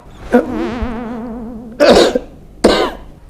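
An elderly man coughs twice on request during a medical check, short and harsh, following a drawn-out wavering hum; close and fairly loud.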